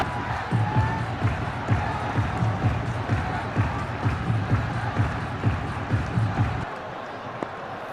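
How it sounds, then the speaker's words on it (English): Crowd at a cricket stadium during a Bangladesh vs West Indies one-day international, roaring and cheering after a six, a loud sustained din with rhythmic pulses like drumming or chanting that drops off near the end. "The crowd are absolutely over the moon."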